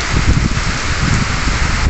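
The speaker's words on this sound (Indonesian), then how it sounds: "Malam hujan es, guys." A nighttime storm in Malang, East Java, with heavy rain and hail pouring down in a steady, loud, close hiss, unbroken and without voices.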